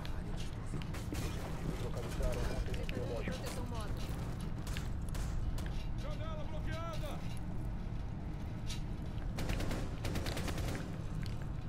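Video game gunfire in bursts of rapid shots mixed with game effects, running under a player talking throughout.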